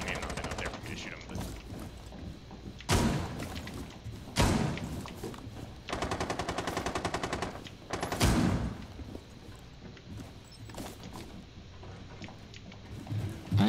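Gunfire in a tactical shooter game: several heavy single shots followed by a rapid automatic burst and more loud shots, close and sharp over a low background hum, with voices talking at times.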